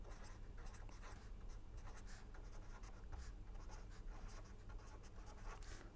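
Writing on a board during a probability lecture, a continuous scratchy stroking of the pen or chalk with irregular pulses over a low steady hum.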